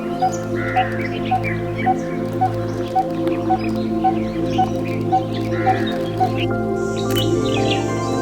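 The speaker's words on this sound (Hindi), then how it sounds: "तांबट और अंग्रेजी में कॉपर स्मिथ बारबेट के नाम से जाना जाता है। यह बहुत ही सुरीला पंछी है" A coppersmith barbet calls in Sinhgad Bird Valley, repeating a metallic note at a steady, even pace, loud and close, with other birds chirping faintly behind.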